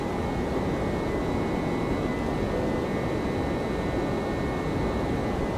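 A steady, unbroken roar of airliner engines at TOGA thrust during a go-around in the X-Plane 12 flight simulator, a constant broadband rumble with no talking.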